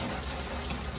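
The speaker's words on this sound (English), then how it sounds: "So the water's running through, coming out." Water runs steadily from a bathtub tap after a new whole-house filter has been fitted, making a constant, close rushing flow with no break.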